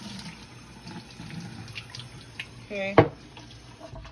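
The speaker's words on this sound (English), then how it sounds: "you're just gonna come over to the sink, fill this up with some water" Water runs from a sink tap into a container used for propagating pothos cuttings, a faint steady trickle with a brief louder splash near the end, and a voice speaks briefly.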